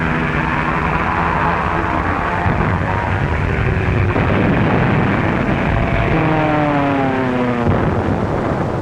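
A German dive bomber aircraft from a 1942 wartime documentary, a loud continuous engine roar with rising and falling whine tones, steady throughout and heard alone under old film soundtrack noise.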